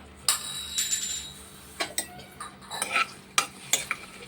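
Green chillies and brinjal pieces fry in oil in a pan, a soft background sizzle under frequent close metallic clinks and scrapes of stirring, with no one speaking.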